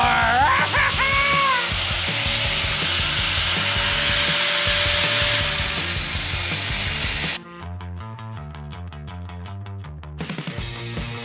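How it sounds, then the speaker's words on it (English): A power tool cuts into a stuck rivet on a race car body, a loud steady grinding whine for several seconds, then it drops into lower, tonal chattering bursts. "I had cut a cross section in the rivet and was able to start working the head loose"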